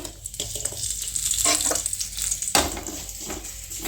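Tamarind fries in a little sesame oil in a pan for Kanyakumari-style chammanthi podi. A steady, close sizzle runs throughout, with scraping stirring noises and one sharper clatter partway through.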